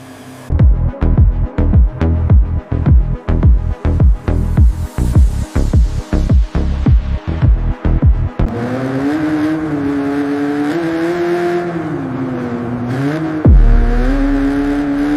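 A restored Nissan Skyline R34 engine revs hard in about a dozen sharp, rhythmic throttle blips. It then settles into a loud, sustained drone that rises and falls, with one more surge near the end, all close up and with no talk.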